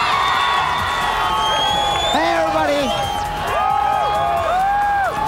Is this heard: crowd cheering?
yes